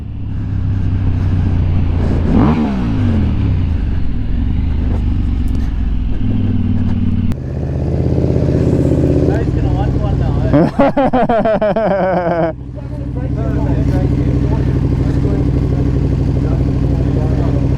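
A 2020 KTM motorcycle engine runs loud and close throughout, its pitch rising and falling with gear shifts, including a sharp rev burst near the middle, while voices talk over it.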